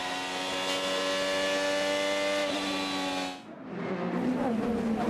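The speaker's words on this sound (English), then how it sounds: "This is the Gainbridge Honda of Herta." A Honda-powered IndyCar race car at the St. Petersburg street circuit screams past at a high, steady engine pitch, then dips briefly before rising again in a loud, close whine.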